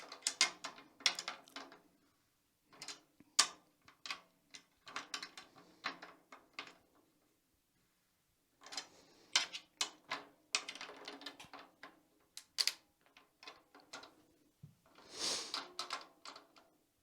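Tension rods on an old Pearl snare drum being tightened by quarter turns, giving bursts of soft ratcheting clicks separated by short pauses, quiet and close.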